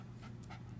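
A dog pants close by in quick, rhythmic breathy bursts, faint and alone, with no one talking.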